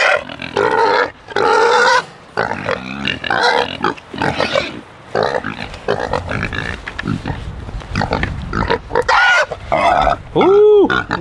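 Pigs grunt and squeal loudly and close by as they feed on alfalfa, charcoal and kelp, a busy run of snorts and harsh calls with a few high squeals near the end.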